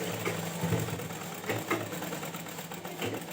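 Sewing machine stitching a pajama seam, a faint, steady mechanical whir with light rhythmic ticks close by, no speech.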